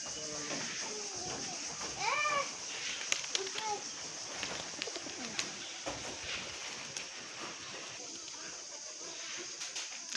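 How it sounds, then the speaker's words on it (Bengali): Pet pigeons coo softly in a yard while fussing for food, with low murmuring calls and faint rustling. Someone talks over them and children's voices sound in the background. "এই যে আমার ভাইয়ের কবুতরগুলো, পোষা প্রাণী সব খাবার জন্য উথাল পাতাল লাগাইছে।"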